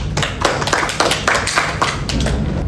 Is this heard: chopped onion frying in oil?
no